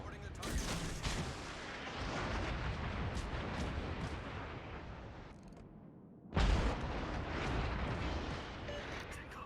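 Naval guns boom in World of Warships gameplay, a dense, sustained roar of heavy fire and explosions that drops away briefly before another loud blast, with the rumble continuing afterward.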